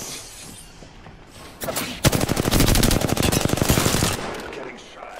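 Gunfire in Apex Legends: after a short lull, rapid automatic bursts rattle loudly and continuously for about two seconds, then cut off into quieter game ambience.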